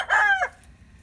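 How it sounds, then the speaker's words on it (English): One standard-size Polish rooster gives a single short, loud crow close by, then quiet. "And then over here I have 4 standard size Polish roosters"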